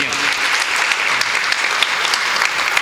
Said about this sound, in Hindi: एक बार जोरदार तालियां बजाइए जोरदार तालियां